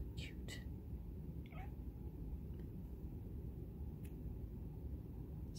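An indoor house cat chirps at birds it sees outside, giving a few short, high, separate chirps over a steady low background hum.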